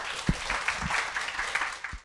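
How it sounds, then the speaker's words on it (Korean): Brief applause from a book-talk audience welcoming an architect to the stage, a short burst of clapping with a few sharper claps, cutting off abruptly after two seconds. "여러분 큰 박수 부탁드립니다"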